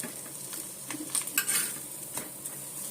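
Buttered bread toasting in a pan, with soft scraping and clinking of a utensil against the cookware over a faint, steady sizzle, heard close and alone.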